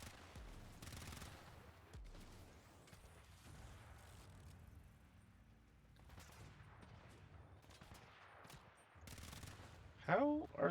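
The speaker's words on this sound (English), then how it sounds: "Seriously, who's shooting at me?" Bursts of gunfire from enemy robots in the War Robots game, fairly faint and distant, coming in clusters with quieter gaps and a sharper burst near the end.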